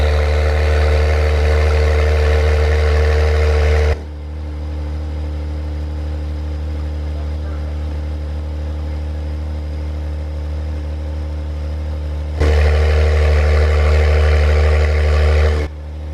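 An Acura NSX with a titanium dual-mode exhaust and active valves runs close by, loud and droning at first, then abruptly much quieter for several seconds before the full loud tone returns and cuts back again near the end.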